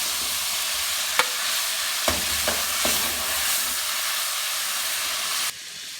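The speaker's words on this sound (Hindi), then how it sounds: "आपने सिर्फ इतना सा फ्राई करना है, ये देखें।" Chicken lightly frying in a pot for chicken pulao gives off a steady hissing sizzle, with a few sharp utensil clicks, before the sound abruptly drops near the end.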